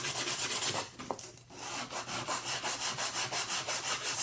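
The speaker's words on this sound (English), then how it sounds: "sand it as straight as you can" Rhythmic back-and-forth sanding of a small wooden dollhouse piece with a hand tool, close and steady. A brief pause comes early, and then the even rasping strokes continue at a regular pace.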